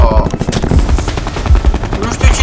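Rapid automatic gunfire from a paladin weapon in a video game, loud bursts rattling continuously with dense repeated cracks throughout.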